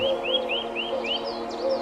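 A bulbul calls with a quick run of sweet, liquid chirping notes, several short rising phrases in steady succession over a low background hum.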